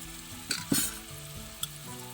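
Garlic, half a spoon, dropped into a hot frying pan with onions, giving a soft low sizzle under a few sharp clinks and scrapes of stirring, with no talk.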